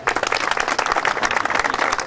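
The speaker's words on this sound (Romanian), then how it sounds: "Aplauze pentru Andrei, felicitări" Crowd at a rally awards ceremony claps steadily and fairly close, a brisk continuous round of applause with no speech over it.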